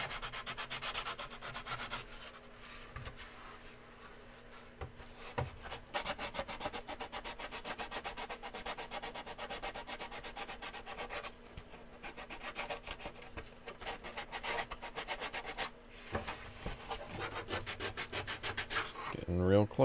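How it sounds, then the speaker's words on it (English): Wood is sanded during a live build, a continuous close rasping scrub with even back-and-forth strokes running steadily throughout, fairly quiet with no talking. "We're just doing a little bit of sanding."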